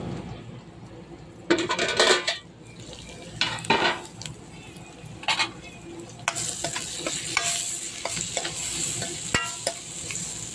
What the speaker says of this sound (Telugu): ఇప్పుడు వచ్చేసి కొద్దిగా సేపు మనం మూత పెడదామండి ఆయిల్ కొసేపు మగ్గనిద్దాం